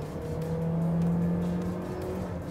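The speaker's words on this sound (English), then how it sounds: "you're just greeted with this big whine of that CVT transmission" A 2023 Toyota Innova Hycross non-hybrid accelerating hard, its CVT transmission giving a steady, droning whine over engine and road noise, heard from inside the car.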